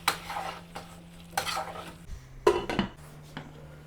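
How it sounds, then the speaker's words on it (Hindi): Chopped tomatoes with ketchup and salt are sautéed in a pan, heard as a handful of distinct spoon-scraping strokes over light sizzling and a faint low hum. "अब हम इसको अच्छा से मिक्स कर लेंगे, सौते कर लेंगे 5 से 7 मिनट के लिए।"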